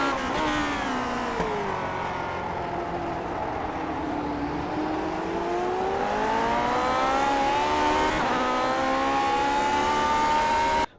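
Lotus 49 racing engine in iRacing at Motegi, a loud continuous engine note that drops in pitch as it downshifts, then climbs again with a second shift, close and alone.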